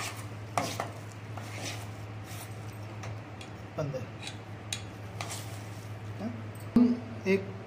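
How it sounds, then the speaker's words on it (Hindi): Knife chopping a green chili on a board in quick irregular taps, fairly close, over a steady low hum with light kitchen clatter. "हम एक हरी मिर्च काटेंगे"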